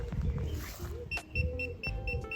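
A Gifi X-pert Bluetooth GPS keyring alarm beeps in a repeating series of short, fairly faint high chirps over background rustling and handling noise.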